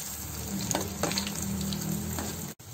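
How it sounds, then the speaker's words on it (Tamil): Bread deep frying in hot oil over a high flame, a continuous close sizzle and crackle with a few sharp pops, cutting out for a moment near the end, with no one talking. "ஹை ஃப்ளேம்லயே வச்சு ஃப்ரை பண்ணுங்க"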